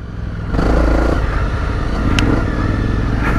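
Honda NC700S motorcycle engine riding off-road, starting abruptly and holding a loud, close, steady drone with rough clattering from the terrain and a brief sharp knock near the end.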